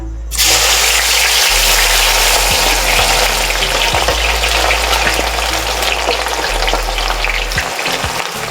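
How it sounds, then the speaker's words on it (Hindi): Onions drop into hot oil in a karahi on a stove and burst into a loud, dense, continuous sizzle that holds steady close up for several seconds, no voices. "कढ़ाई में ऑयल हमने डाल के चूल्हे पे रख दिया है। ऑयल हमारे इस वक्त गर्म है। इसमें प्याज डालेंगे।"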